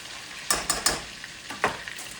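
Food frying in a pan, a soft steady sizzle broken by a few sharp scraping stirs and clinks, close and moderately quiet.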